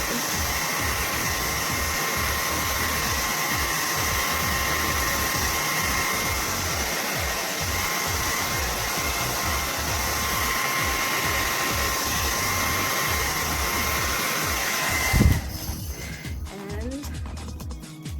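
A hair dryer blows steadily for a long stretch while drying hair after a home wash, loud and close, its even whirring drone cutting off abruptly near the end with some handling noise.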